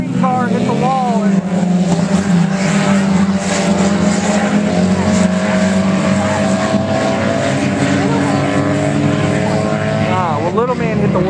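Mini stock race cars lap Western Kentucky Speedway during a heat race, their engines droning and shifting pitch continuously and loudly, with announcer-style commentary running over the engine noise throughout.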